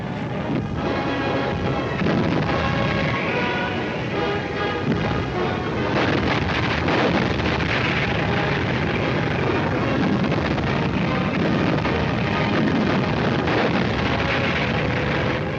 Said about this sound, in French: Des avions soviétiques de bombardement tentent d'entraver l'avance des unités d'infanterie. La DCA entre en action.